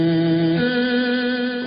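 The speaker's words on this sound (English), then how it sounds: "there's the fuzz box, which sounds like this" An organ fed through a fuzz box holds a thick, buzzy sustained chord that shifts pitch partway through, dense and distorted, with no voices.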